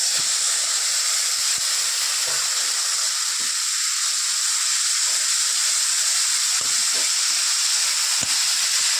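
Taro pieces added to a hot pan with fish, salt and spices give off a steady, even sizzle and hiss that runs unbroken throughout, with a few faint clicks underneath.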